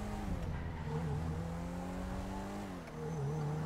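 A GTA 5 car drives on with a continuous loud engine tone that rises and dips as it shifts, with light tire squeal and no voices over it.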